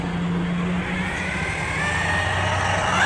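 A Hosim MOXLIN M13 brushless 1/14 scale RC truck drives nearby, its electric motor whining steadily and rising in pitch as it speeds up, with no talk over it.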